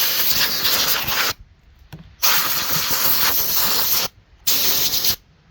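Compressed air blasting through the fins of a saw to clear out spackle dust, three loud broadband hissing bursts of about a second each separated by short pauses, close up and with no talking.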